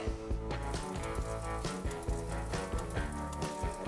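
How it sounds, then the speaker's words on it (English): Oil heating in a pan ahead of sautéing spinach gives a steady, busy sizzle and crackle, moderately loud and close, with no talking. "adding the oil to the pan to saute the spinach. I'm gonna heat that up a little bit."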